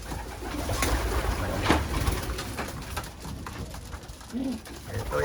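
Pigeons in the cock section of a racing-pigeon loft give soft, low cooing amid a dense, rustling, noisy backdrop, with one clearer coo near the end.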